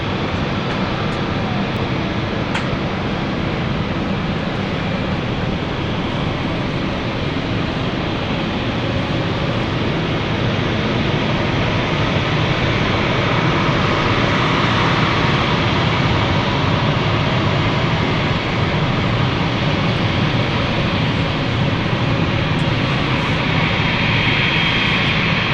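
Engine two spooling up on an aircraft powered by Pratt & Whitney 1000 engines at London City airport: a steady, loud broadband roar that holds for the whole stretch and rises slightly in the middle and later part.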